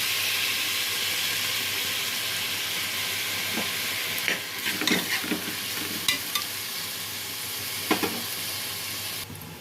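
Onions with mint, coriander, tomato and green chillies fry in hot oil in a pan, a steady close sizzle throughout broken by a few stirring scrapes and clinks.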